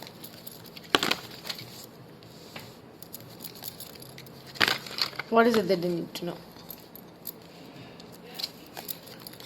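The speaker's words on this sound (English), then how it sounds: "I'm shuffling because they're asking me to shuffle" Tarot cards being shuffled during a card reading: a few short papery riffles and rustles, close and soft, broken by a brief spoken question from a woman.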